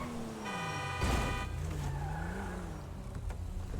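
A car passes on a road, its engine note rising and falling with a whoosh at about the one-second mark, steady and fairly close throughout with no talk.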